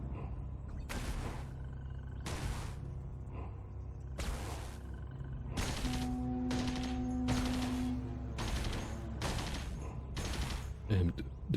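Laser turrets fire in the Caves of Qud video game, loosing a series of sharp, loud bursts in an irregular rhythm of about ten shots, with a steady electronic hum under some of them.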